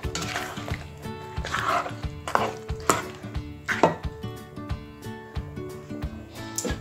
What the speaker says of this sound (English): I'm going to mince and mince and mince and mince.